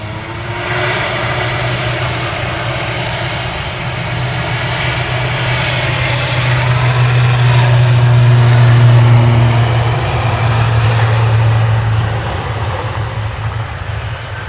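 An airplane takes off at Manchester Airport, its engine roar heard steadily from a distance, swelling and then easing slightly over several seconds as it climbs, with no talk.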